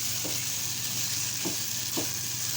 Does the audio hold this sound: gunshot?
no